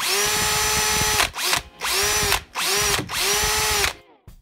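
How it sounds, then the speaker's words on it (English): Close, loud DeWalt cordless drill on a generic 20V lithium battery whirring in four bursts, each spinning up to a steady high whine before cutting off, with brief pauses between. "let's go ahead and take a listen to this drill here with the battery installed."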